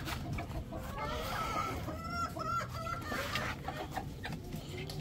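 Aseel chickens and chicks are fed grain in the sun, with a steady close-up chorus of clucking and soft chick peeps over constant outdoor background noise.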